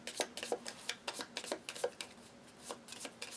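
Playing cards for the Pandemic Legacy board game are shuffled close by, with a quick run of crisp riffling snaps and soft slaps in an uneven rhythm and no voices.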